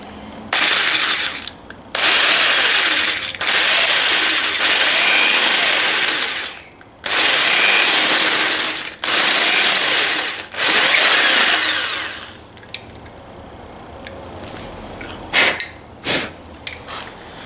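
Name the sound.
power drill drilling a bigger hole for helmet camera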